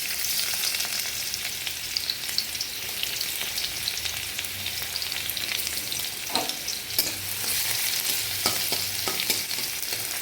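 Crushed garlic sizzles steadily in hot oil in a pan in a village kitchen, a continuous close hiss with a few sharper crackles and stirring scrapes, with no voices.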